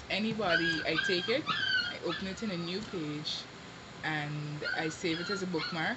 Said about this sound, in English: I'm very sorry about the canine noise that you guys are hearing. My dog got a few puppies, so the babies are being quite noisy